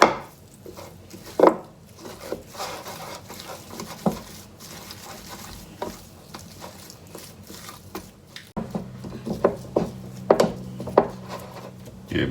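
A knife slices beef into long strips on a board, making irregular taps and cuts of moderate loudness spread across the stretch with no speech.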